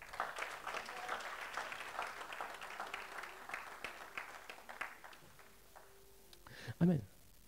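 A church congregation applauding and cheering for the Lord, with steady clapping that fades out over several seconds before a brief louder burst near the end.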